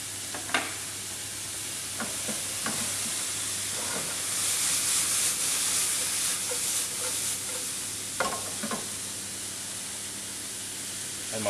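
Chorizo frying in a pan with leeks and garlic for a lentil cassoulet, giving a continuous close sizzle and hiss that swells midway, with occasional clicks and stirring scrapes.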